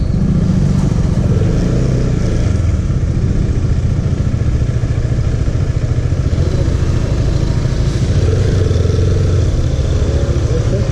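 A Husqvarna Svartpilen 250 motorcycle engine drones steadily while riding, loud and close, with a dense low rumble and constant wind buffeting throughout.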